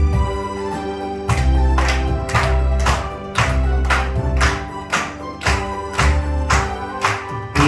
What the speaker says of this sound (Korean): 그 시간에 신청에 박수 치면서 찬양하도록 하겠습니다.